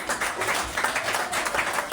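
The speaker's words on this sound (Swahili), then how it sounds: "Piga Bwana Yesu makofi." A church congregation claps together during a sermon, a short burst of dense, even applause from a crowded room.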